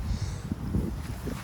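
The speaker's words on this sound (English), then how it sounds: "It's just wind like crazy." Strong wind buffets the microphone in a steady low roar, gusting unevenly with no voices.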